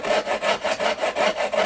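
A handsaw cuts relief kerfs into a wooden floor joist for a log cabin model, a close, rhythmic back-and-forth rasp of about eight even strokes with no talk.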